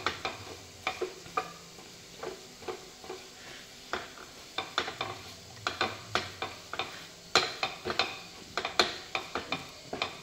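A spoon scrapes and taps through mango sheera with melted jaggery in a pan, a string of close, rhythmic stirring knocks over a faint sizzle, with no voices.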